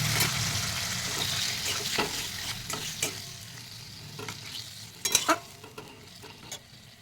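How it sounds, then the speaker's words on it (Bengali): Potatoes and spices fry in a pan for a fish curry, a dense sizzle under repeated scraping and stirring strokes, with a few louder clanks of the spoon against the pan close by. "এবার আমি ভালো করে কষিয়ে নেব"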